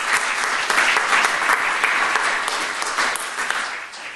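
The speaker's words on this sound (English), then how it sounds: "a round of applause for the presenters" Audience applause for the presenters at a conference session, a dense, steady wash of many hands clapping that holds loud for about four seconds and eases slightly at the end.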